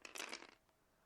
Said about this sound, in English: shuffle, roll the dice, and we'll go from here